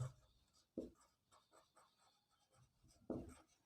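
Pen or marker writing out a two-column geometry proof for a class 9 Pythagoras theorem lesson, giving soft scratchy strokes with a few louder taps and scrapes, close and fairly quiet.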